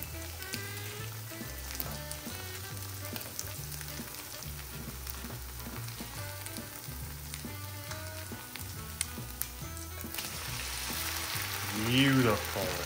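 Food frying in a non-stick pan gives a steady sizzle throughout, with background music running underneath and a brief louder burst of crackling near the end.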